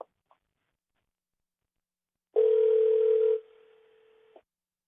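A telephone dial tone heard after a call disconnects on a remote meeting line: a steady, loud tone comes in after a brief click, drops to a quieter level after about a second and then cuts off.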